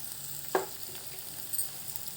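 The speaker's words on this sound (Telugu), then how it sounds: "ఈ కొత్తిమీర వేశాక పచ్చివాసన పోయేంత వరకు దూరగా వేయించుకోండి" Chopped coriander fries in a spice mix with a faint, steady sizzle, one brief scrape of a spoon partway through.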